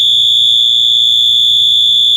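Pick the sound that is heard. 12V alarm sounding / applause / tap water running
12V alarm sounding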